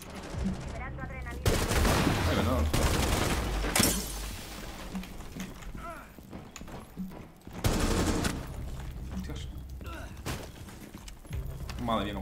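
Gunfire in Rainbow Six Siege: repeated loud bursts of automatic shots in several clusters, close and punchy, with someone talking over and between them.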